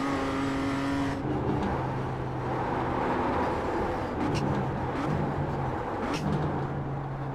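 A racing car engine in a racing sim video game, a loud sustained engine drone with shifting pitch as the car accelerates and shifts gears, steady throughout with no talk.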